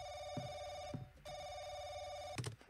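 A telephone rings in the video game The Crooked Man, a steady electronic ring tone that repeats in long bursts with short gaps, heard alone and clearly.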